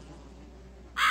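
A crow caws in the horror video game The Cat Lady, a single sharp call breaking in at the end over a steady low ambient drone.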